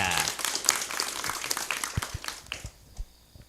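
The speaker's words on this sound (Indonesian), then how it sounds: "Tepuk tangan yang meriah untuk Gus Siva." Applause for Gus Siva, a speaker at a Pagar Nusa gathering of ulama in Banyuwangi, with dense crowd clapping that thins out toward the end, leaving a few scattered claps.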